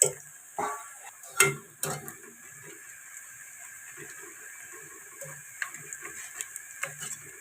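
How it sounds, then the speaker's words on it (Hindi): Onions frying in oil are stirred in a pan, giving a few loud scraping clatters of a utensil against metal early on, then soft intermittent taps and a faint steady sizzle. "इस तरह इसको हिला हिला के पकाना है।"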